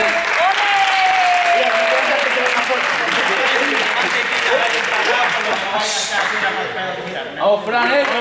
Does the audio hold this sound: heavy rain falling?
no